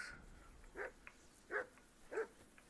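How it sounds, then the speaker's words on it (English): A dog in the video game Kingdom Come Deliverance II barks three times at a steady pace, each bark short and moderately loud. The three barks sit over a quiet game ambience with no talking. "whistle at that mutt of yours to stop barking"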